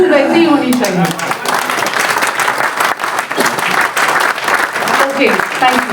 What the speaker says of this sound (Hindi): तालियों की गूंज वैसी ही होनी चाहिए